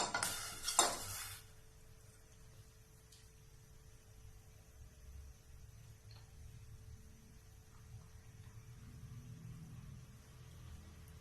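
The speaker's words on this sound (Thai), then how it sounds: "เราจะเติมลูกชิ้นลงไปต้มในน้ำซุปนะครับ" Meatballs go into a pot of boiling broth for yen ta fo noodle soup: a short clattering plop at the start, then a faint simmering bubble over low kitchen hum.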